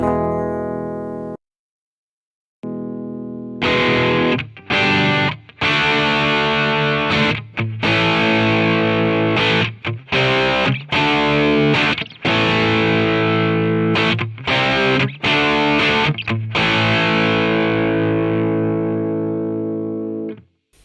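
Heavily distorted electric guitar chords through the Amplitube 5 amp simulator, played alone, loud and sustained, with short stops between strummed phrases and a ringing final chord that fades out.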